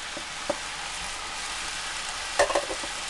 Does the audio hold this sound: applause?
no